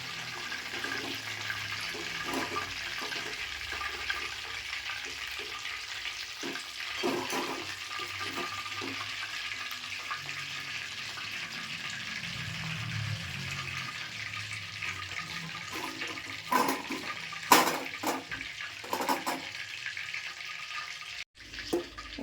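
Chicken lollipops deep-frying in oil, a long steady bubbling sizzle at moderate distance, with occasional clatters and knocks of handling toward the end.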